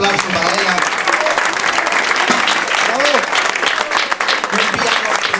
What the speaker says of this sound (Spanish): por favor, un fortísimo aplauso para ela